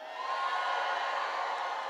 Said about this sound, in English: What an amazing fired up crowd